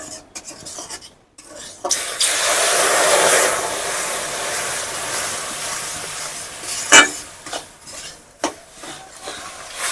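Water poured into roasted semolina in a pan, a broad hissing sizzle that swells and holds for a few seconds, followed by scraping and stirring clinks of a utensil against the pan.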